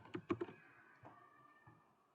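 A few quick keystrokes on a computer keyboard tapped close by in a short burst near the start, then a couple of isolated clicks over a faint room hum, with no talking.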